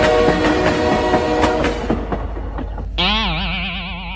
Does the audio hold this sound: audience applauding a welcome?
no